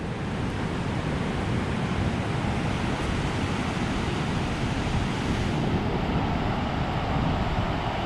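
Rough sea surf breaking on the shore at Laweung, Pidie, as the year turns to 2020, a steady loud roar of waves with wind buffeting the microphone throughout, no voices.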